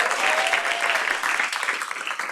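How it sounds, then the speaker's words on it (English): An audience applauds student pitch competitors at a youth pitch competition, with dense, steady clapping from a room full of people that holds at an even level throughout. "huge round of applause?"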